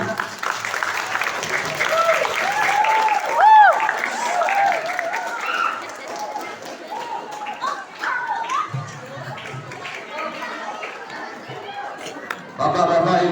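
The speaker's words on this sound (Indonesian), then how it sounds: "Untuk tepuk tangan yang belakang yang nggak bisa nabung terbang." An audience of schoolchildren and adults at a religious lecture breaks into loud, sustained clapping, mixed with chatter and children's voices, while someone talks over it.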